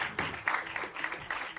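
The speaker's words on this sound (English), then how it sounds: "a huge round of applause" An audience at a short film preview applauds the film team, a dense steady patter of many hands clapping, close and continuous throughout.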